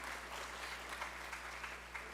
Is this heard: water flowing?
no